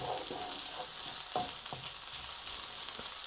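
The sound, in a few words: bacon frying in a pan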